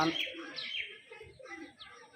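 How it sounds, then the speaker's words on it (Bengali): A pair of Andra pigeons gives soft, brief coos and chirps close by, mixed in with a person talking over them through most of the moment. "এটা আন্দ্রা পায়রা হ্যাঁ এক পেয়ার পায়রা দেখুন"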